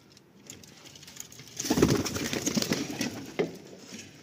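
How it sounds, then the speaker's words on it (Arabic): Pigeons coo softly nearby, with low murmuring calls rising in the middle and faint rustling in the background, no talking. "هسه الحمام اليوم لازم يسبح"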